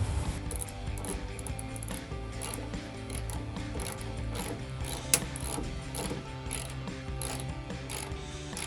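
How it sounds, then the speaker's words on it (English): Ratchet wrench with an 8mm socket tightening tail light mounting bolts on a 2009-2014 Ford F-150, a steady run of rapid pawl clicks, close and continuous, with a single sharper click partway through. "We'll take our 8mm and tighten them back down."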